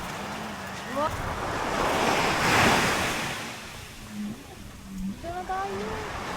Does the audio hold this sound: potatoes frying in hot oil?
no